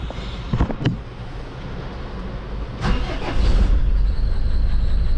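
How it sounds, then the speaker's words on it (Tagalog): A flood-damaged Hyundai H100 with a D4BB diesel engine cranks with a few sharp knocks, then settles into a rough, loud running rumble that grows stronger toward the end. "Ito pala ay H100 D4BB,"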